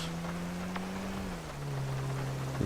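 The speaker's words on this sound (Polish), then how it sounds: "Straszna ulewa w ogóle jest Los Santos teraz." Heavy downpour in the video game GTA on PS4, a constant rain hiss layered over a low steady engine drone that drops slightly in pitch partway through.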